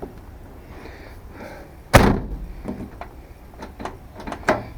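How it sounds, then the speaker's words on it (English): The locked door of a 1992 Nissan pickup truck gets a single sharp thud as someone tries it, followed by a few lighter clicks and knocks nearby. "No, damn door's locked."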